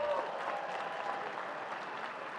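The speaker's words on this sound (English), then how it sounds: "a round of applause for that" A continuous wash of clapping from a crowd at the Cubs Convention, fairly distant and steady for a couple of seconds, without any distinct voices on top.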